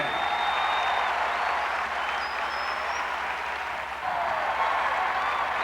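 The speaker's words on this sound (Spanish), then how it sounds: "Si vas a aplaudirlo a Dios, ¡apláudelo fuerte!" A church congregation claps in a continuous, full wash of applause that stays even and steady throughout, with a brief dip near the end before it swells again.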